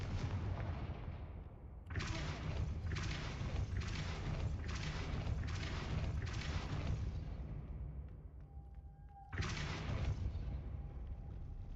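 Confringo spell blasts in a video game, a series of six or seven rhythmic booming explosions that fade into a brief tonal ring, followed by one more heavy blast, loud and alone.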